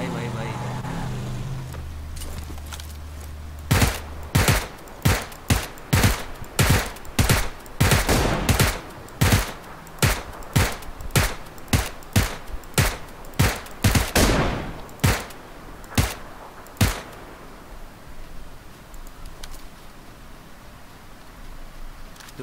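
Gunfire in the PUBG Lite battle royale video game: a rapid run of sharp, loud shots cracks out in quick succession for several seconds, then thins to a few scattered shots before fading into quiet background ambience.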